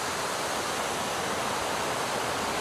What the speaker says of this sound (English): A lot of people stopping to take pictures and selfies of this really cool waterfall